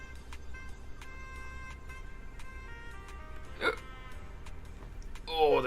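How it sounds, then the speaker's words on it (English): A single sharp hiccup jolts out once at mid-clip during an art stream, standing out briefly over a faint steady background hum with soft tonal music underneath. "Oh, that was a really bad hiccup."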